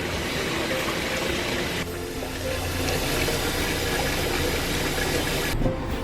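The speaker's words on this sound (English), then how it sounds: "So now we're adding hot water." Hot water poured into a sink or basin of dishes on top of boiling water, a steady rushing, splashing fill that runs continuously and close by, with a brief break partway through.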